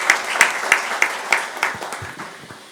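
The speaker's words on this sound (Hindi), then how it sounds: "इन नन्हे मुन्ने फरिश्तों के लिए जोरदार तालियां बनती हैं।" An audience at an Arya Samaj Vasant Vihar New Year felicitation ceremony claps for the children in a rhythmic unison beat, about three claps per second, loud at first and gradually fading away.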